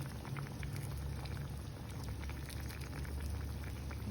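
Adobo with bay leaf, added water and black pepper boils in a pot, giving a continuous close bubbling and popping simmer with no talking.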